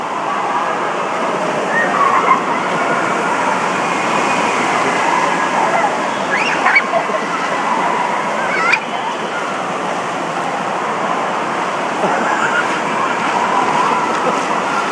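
Water in an indoor water park wave pool churns and splashes in a continuous loud wash, with waves breaking close by. Children and adults talk and call out over it.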